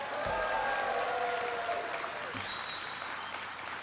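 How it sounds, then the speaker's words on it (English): Steady, loud applause from a large crowd at a US energy speech by Obama, sustained clapping filling the space with scattered cheers, continuing without pause. "Give them a big round of applause."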